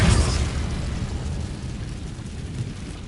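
Incendio fire spell cast in Hogwarts Legacy, a loud whooshing fiery burst at the start that settles into a sustained roaring, crackling rumble and slowly fades.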